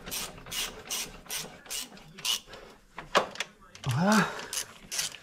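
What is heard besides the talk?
ratchet tightening exhaust bolts on cylinder head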